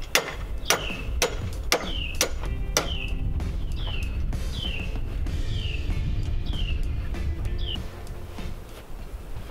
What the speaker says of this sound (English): Nothing like a good hammer.